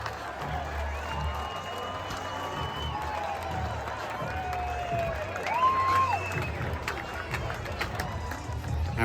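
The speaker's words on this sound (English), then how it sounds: "That might appear like a lot of cheering for a spring training game" Crowd cheering and applause fill the stands after a walk-off win at a Cardinals spring training baseball game in Jupiter, Florida, a steady, distant roar with scattered shouts and clapping that holds throughout.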